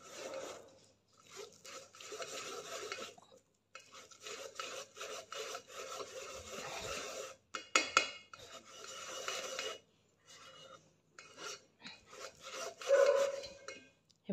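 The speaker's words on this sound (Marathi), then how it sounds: "आता ह्यामध्ये पुरण घालून हे ग्लासनं फिरवून घेते." A glass pressed and rubbed around over cooked puran in a metal strainer, giving repeated rasping, scraping strokes in uneven bursts with short pauses between, close and moderately loud.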